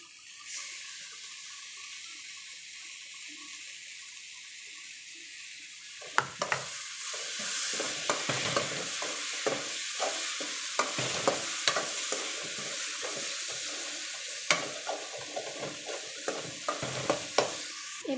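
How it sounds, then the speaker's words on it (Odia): Onions frying in a pan for dal tadka, a quiet start giving way to a steady hiss of sizzling with repeated scraping stirs of a spoon, close and moderately loud. "ଏବେ ଦେଖନ୍ତୁ ପିଆଜ ବଢ଼ିଆ ସେ ଭାଜି ହେଇଗଲାଣି।"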